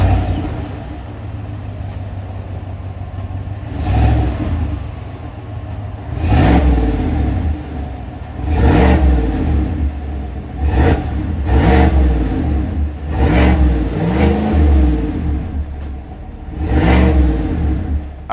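A 5.3-liter V8 in a 2023 GMC Sierra Elevation X31 pickup idles with a low rumble, then revs up several times in repeated bursts, each rising and falling back to idle.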